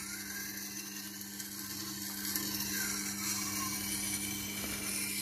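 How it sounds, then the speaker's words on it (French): A Tormek wet grinding wheel sharpens a vintage Opinel No. 12 knife, giving a steady, continuous grinding hum with a constant low drone and faint scraping of steel on stone throughout. "il faut faire très attention parce que la meule est dans le sens inverse"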